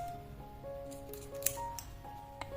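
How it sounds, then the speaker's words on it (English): Small scissors snip crochet yarn while finishing a mini teddy bear keychain: a few quiet, crisp clicks and one sharper snip in a calm room, with no talking. "cut this yarn"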